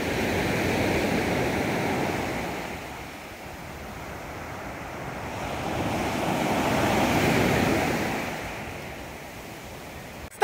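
Sea surf washing onto the shore outdoors, a steady broadband rush that swells and recedes in slow waves, with light wind noise over the microphone and no voices.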